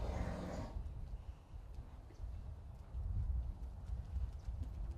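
A Morgan horse ridden in an arena clip-clops with a steady, continuous hoof rhythm close by, and a brief burst of other noise comes at the start.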